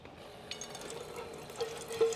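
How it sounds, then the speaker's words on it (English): Water runs from a tap into a cooking pot at an overland camp kitchen, a soft steady fill lasting a couple of seconds with a slight rise at the end. "fill the pot up with a little bit of water, let it kind of sit, let it soak a little bit"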